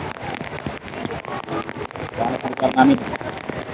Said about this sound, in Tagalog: Ulan guys, oh.